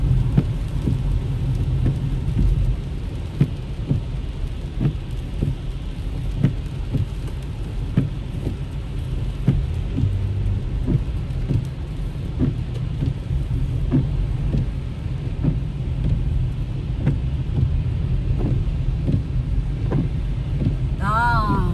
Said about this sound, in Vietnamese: trời mưa kẹt xe quá quý vị ơi